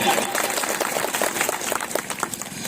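A crowd applauds at a Bhil community marriage-rules meeting in Dhanpur, a steady dense clapping that runs for a few seconds with murmuring voices mixed in.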